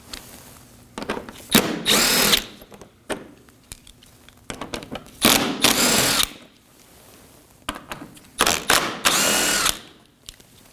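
A power drill driver runs in three separate bursts, each a couple of seconds long, removing 8mm and 10mm bolts on a 2013-2019 Nissan Sentra 1.8L, with clicks and handling noises between the runs.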